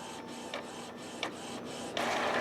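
An Epson XP inkjet printer prints a page, its carriage whirring in a steady mechanical hum broken by a few short rhythmic clicks and swishes, close and moderately loud.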